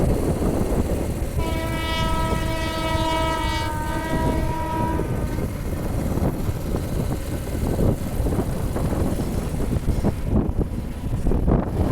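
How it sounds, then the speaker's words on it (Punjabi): A passing train sounds a long, loud horn for several seconds, then rumbles on with wind buffeting the microphone, heard outdoors while travelling by motorcycle; no talk over it. "ਟ੍ਰੇਨ ਆ ਗਈ ਆ"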